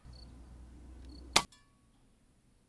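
A single sharp crack from an FX Impact M3 air rifle fired on an outdoor shooting range, followed by a faint distant impact on the target a moment later.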